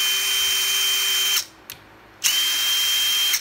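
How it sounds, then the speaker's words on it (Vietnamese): A Makita cordless impact driver spinning up close as it drives screws, a steady high-pitched motor whine that cuts off briefly, then resumes for another run. "tiếng bắn vít của Makita nó rất là êm và nó nhanh"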